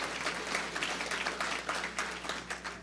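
Applause from an audience at an energy summit in Virginia, a moderate, steady patter of many hands clapping across the whole stretch, with no talk over it.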